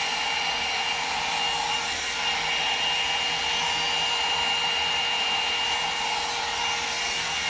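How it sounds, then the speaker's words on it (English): A Conair 2-in-1 hot air hair dryer and styler drying hair runs as a constant, even blowing whir close by, with no pauses and no talking. "I'm going to finish drying my hair"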